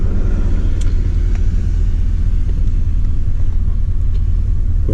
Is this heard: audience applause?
no